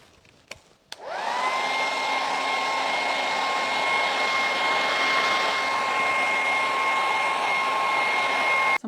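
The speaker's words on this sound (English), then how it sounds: "And we will hit that with the hairdryer" A hair dryer switches on and blows steadily and loudly at close range, a continuous whooshing hum with a whine, used to dry paint on a thrift-frame canvas.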